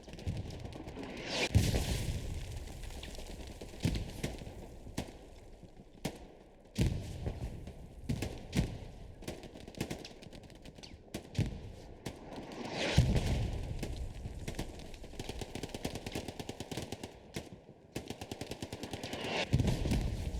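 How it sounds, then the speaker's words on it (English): Artillery and gunfire in the online shooter Hell Let Loose during a competitive match: repeated heavy booms and rattling bursts, some near and loud, others distant, scattered irregularly over a constant battlefield rumble. "Look at this artillery."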